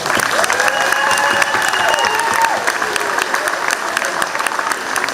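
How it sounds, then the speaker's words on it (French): Audience at a children's concert claps loudly and steadily, a dense wash of applause with some cheering and voices mixed in throughout. "Donc là, ils ont tout donné, et on les applaudit très fort."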